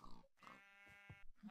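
A pig in the Minecraft video game gives two or three short, soft grunts in quick succession, quiet and alone.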